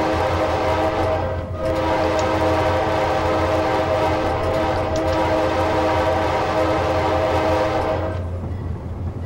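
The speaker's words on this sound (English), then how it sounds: "the horn sounds awesome and I want to" An Amtrak Dash 8-32BWH locomotive in Train Simulator 2017 sounds a sustained, loud horn chord for most of the clip with a short break, over steady rumbling rail noise.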